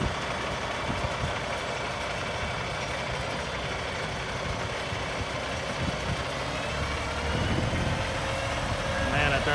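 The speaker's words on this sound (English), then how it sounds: "we just got this truck fired up" A brand new Peterbilt 389 truck engine idling after being fired up, a steady low diesel rumble with constant broadband noise, fairly loud and close, swelling slightly near the end.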